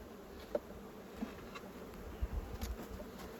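A honeybee swarm buzzes at the hive, a faint continuous insect drone with individual bees zipping past the microphone in brief close bursts.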